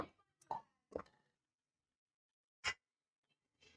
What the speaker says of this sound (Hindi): अब हम गोश्त डालकर इसको थोड़ा सा फ्राई करेंगे।